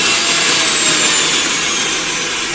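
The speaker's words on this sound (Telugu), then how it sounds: "మాకు మిక్సీ ఇప్పుడు ఆన్ చేసి చూస్తున్నాము." A new Sujata mixer grinder running at high speed, a loud continuous whining roar held steady at close range, with no voices over it.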